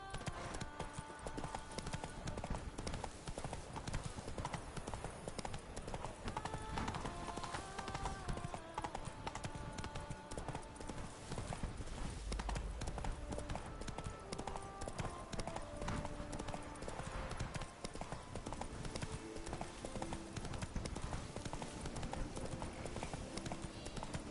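Horse hooves clip-clop steadily through the full stretch in The Witcher 3 as Roach gallops, the rhythmic beats sitting under game music and ambience with an occasional faint whinny.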